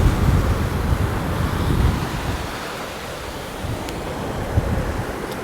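Steady roar of ocean surf breaking on a sea-turtle nesting beach, a broad wash of noise with heavy wind buffeting the microphone, loud and continuous with no voices.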